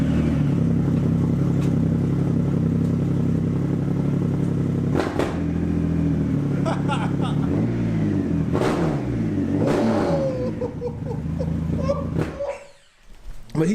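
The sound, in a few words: Indian motorcycle engine revving through its exhaust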